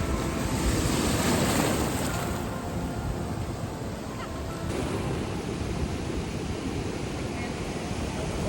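Ocean waves breaking on the shore at San Diego, a steady, loud wash of surf with a continuous roar and some wind across the microphone throughout.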